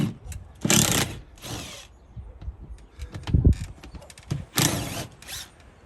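A Bosch 12-volt, 5-amp battery quarter-inch hex driver backs screws out of an aluminum window frame on a mobile home, with several short whirring bursts separated by pauses and faint creaks.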